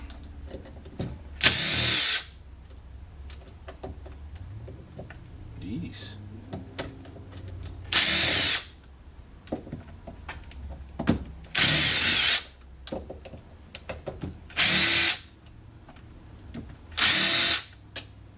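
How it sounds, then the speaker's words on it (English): A power drill whirs in several short, loud bursts separated by pauses, with clinks of small parts, handling noises and a brief spoken exclamation between runs, while disassembling a Quadrajet carburetor from a 1971 Chevrolet C10. "Got my drill."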